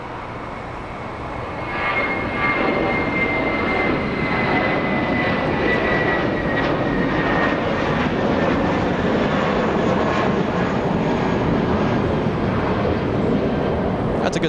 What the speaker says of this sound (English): 747 lining up on the runway as we speak